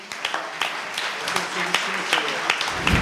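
A small audience at a round-table meeting of members of parliament and healthcare workers claps in scattered, uneven bursts, with sharp individual claps over a murmur of voices.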